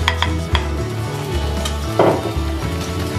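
Egg fried rice being stirred in a hot pan: a close, loud sizzle with quick scrapes and clinks of a utensil against the metal, and nobody talking.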